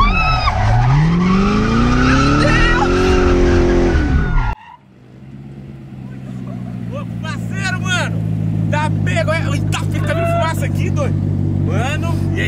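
A Corvette's tires squeal and skid loudly in a long, rising wail, then a steady engine roar and tire scrub carry on up close while people talk and shout over it.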